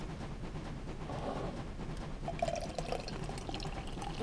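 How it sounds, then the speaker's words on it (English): Diet Coca-Cola poured into a glass, a soft close pour that becomes a bright fizzing, bubbly hiss partway through and keeps sparkling to the end, over a low steady background rumble. "That is the sound of Diet Coca-Cola,"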